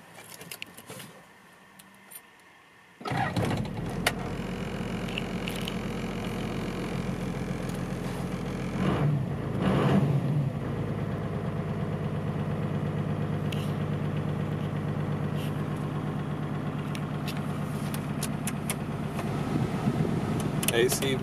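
A 1988 Toyota Land Cruiser HJ61 VX turbo diesel cranks and starts after a few seconds of quiet handling, then settles into a loud, steady idle that continues to the end with a brief rev in the middle.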